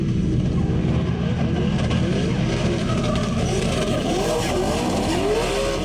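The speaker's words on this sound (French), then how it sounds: "Avec une voiture comme ça, avec un V8" Loud V8 race car engine revving on a circuit, with the pitch climbing and dropping through gear changes as the car passes close by, sustained and continuous throughout.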